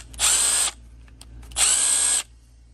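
A cordless 12 volt drill/driver with one of the original older batteries runs in two distinct bursts of about half a second each, loud and close, separated by a short pause with faint clicks.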